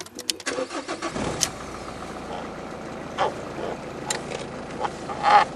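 A car in a garage for a steering-shaft repair cranks with a quick rapid clatter and catches, then settles into a steady idle, with a few sharp clicks and knocks on top.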